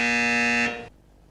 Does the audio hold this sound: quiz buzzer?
yes